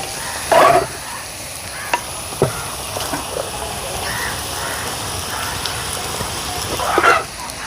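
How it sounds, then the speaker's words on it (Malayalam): Cooked rice with vegetables stirred in a pan, soft sizzling underneath with a few scraping spoon strokes close by and louder bursts near the start and end, no talking. "നമുക്കിതാ നന്നായിട്ട് ഇളക്കി കൊടുക്കാം കേട്ടോ"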